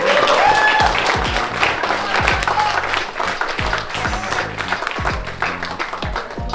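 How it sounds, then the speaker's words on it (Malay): A hall full of people clapping for themselves at a gathering tied to the ASEAN Para Games 2025 in Thailand, dense sustained applause with sharp individual claps up close and a voice briefly heard early on. "Tepuk tangan untuk diri sendiri sikit."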